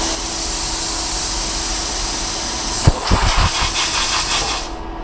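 A 55 amp plasma cutter blasts a loud, steady hiss of air that cuts off abruptly, followed by a few sharp pops and a softer post-flow air hiss that fades out near the end.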